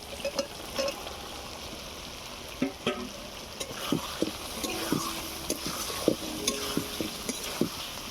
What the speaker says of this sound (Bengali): এবারে দিয়ে দেবো ভেজে রাখা সয়াবিন